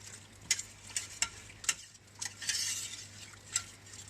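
A whisk stirs milk into a cheese sauce in a pan for cauliflower cheese, giving close, sharp metallic clinks at an irregular pace with a brief swishing stretch in the middle.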